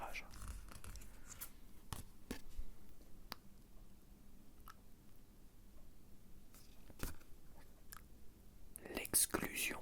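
Tarot cards being drawn and handled for a second spread in a Taurus 2026 reading, with soft scattered taps, rustles and card slides, plus a louder burst of shuffling near the end, under faint whispering.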